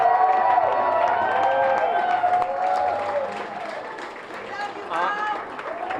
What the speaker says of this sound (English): Give Mom and Dad a round of applause.